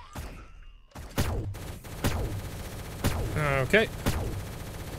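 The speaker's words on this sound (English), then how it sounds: "someone else is shooting me again" Gunfire in the egg-themed shooter game Shell Shockers: several sharp, separate shots with quick decaying tails, spaced about a second apart, with a brief spoken word early on.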